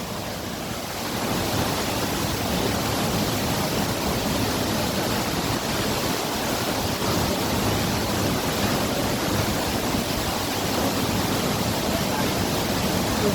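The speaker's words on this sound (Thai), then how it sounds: "นี่ครับพี่น้องผมอยู่น้ำตกห้วยหลวงเด้อ" Huay Luang waterfall in Na Chaluai, Ubon Ratchathani, Thailand, heard as a dense, continuous rushing roar of falling water, close and loud and unbroken from start to finish.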